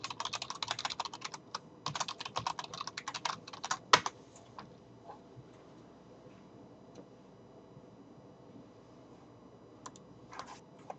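Fast bursts of close computer keyboard typing enter a username and password, dense clicks for about four seconds, then quiet with a few scattered keystrokes later.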